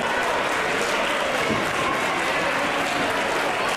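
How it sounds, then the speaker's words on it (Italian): Audience applause for the Passolotti at an agricultural festival in Cogolo, dense and steady clapping from a large crowd, sustained evenly across the whole stretch. "Un bel applauso per i Passolotti"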